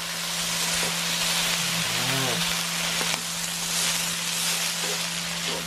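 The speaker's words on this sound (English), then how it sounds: "let's throw in our shrimp as well" Shrimp and pork frying in a little oil in a pan give a continuous, dense sizzle throughout, with a steady low hum underneath and a couple of faint utensil knocks.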